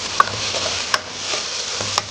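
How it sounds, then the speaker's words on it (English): Tomato paste and chopped onion frying in cooking oil for Nigerian cabbage stew, a steady soft sizzle with a few light clicks of stirring, close and even, with no talking. "So you have to fry the tomato until the tomato stops tasting raw."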